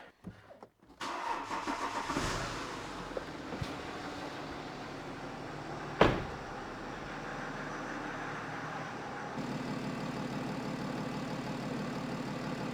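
A BMW 525d diesel cranks and fires after a brief pause, then settles into a quiet, steady idle with a sharp knock partway through and a slight rise in engine tone near the end.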